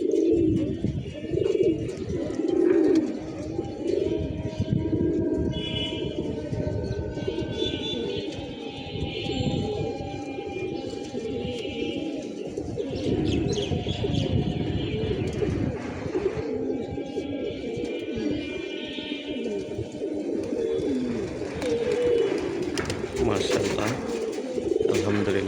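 Pigeons and their chicks settle onto a perch, cooing continuously in a dense, nearby chorus, with a person's voice heard at times over the birds.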